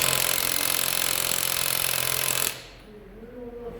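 A loud, steady mechanical rattling hammer from a Matco Tools 16V 3/8-inch cordless impact wrench removing a lug nut runs continuously up close, then cuts off abruptly, leaving quiet room noise.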